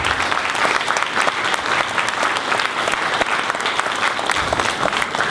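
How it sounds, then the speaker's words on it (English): An audience applauds at a community event honoring a couple, with dense, steady clapping filling the room for the whole stretch, loud and sustained with no speech over it. "Give them a round of applause."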